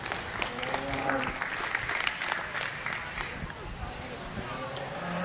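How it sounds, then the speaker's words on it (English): Crowd in the stands at a county fair 4-H and FFA market steer show applauds the youth exhibitors, steady dense clapping mixed with murmuring voices and arena noise, continuing throughout. "Let's give these kids a big round of applause"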